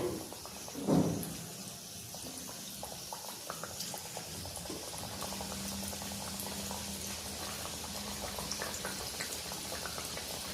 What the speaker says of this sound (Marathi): चला तेल तापलंय आपलं, आता आपण सोडू भजी।